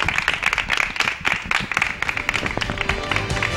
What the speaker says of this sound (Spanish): Un aplauso, muchachos.